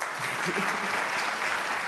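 Audience applause for the organist of an organ trio at an emerging artists awards event: a steady, dense wash of many hands clapping, close and continuous for about two seconds.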